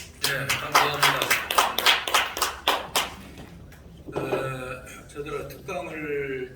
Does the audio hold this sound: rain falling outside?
no